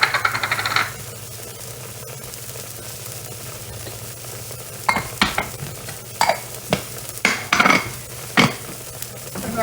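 Seasoned sausage and egg being mixed with salt in a bowl, a series of sharp, close clinks and scrapes of a utensil against the dish in the second half, over a faint background hum.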